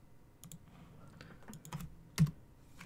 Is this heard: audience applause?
no